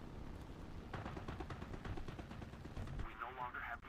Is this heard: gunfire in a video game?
yes